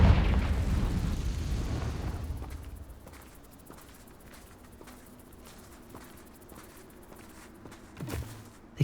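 A Confringo blasting spell in Hogwarts Legacy bursts in a loud fiery explosion at the start, then fades over a few seconds into quiet footsteps and a small thump near the end.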